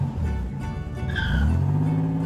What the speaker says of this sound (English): Now you can start the car